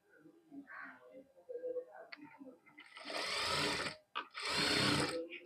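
A sewing machine stitches through fabric in two loud, steady whirring runs, each about a second long with a short pause between them, following a stretch of quiet talking.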